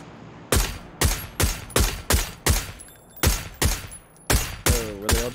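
Loud, evenly spaced gunshots ring out in PUBG ranked squads play, about ten sharp cracks roughly half a second apart, each with a quick decaying tail, with no talk.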